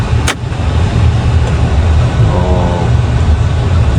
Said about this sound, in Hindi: तो फाइनली हम अपनी गाड़ी में बैठ रहे हैं। गाड़ी आ चुकी है